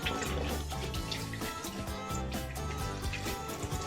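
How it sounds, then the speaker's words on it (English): Warm tap water runs into a sink while hands are rinsed under it, a steady splashing flow under soft background music. "Rinse under the warm water."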